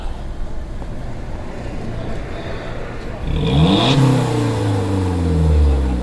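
A Volkswagen Golf Mk6 1.4 TSI with backbox-delete exhaust idles, then revs hard into a loud, throaty exhaust roar that rises and falls twice, close by, with some background noise.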